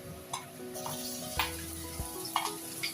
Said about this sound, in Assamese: আদা নহৰুৰ কেঁচা ভাৱটো নোযোৱালৈকে এইখিনি মই ভাজি থাকিম।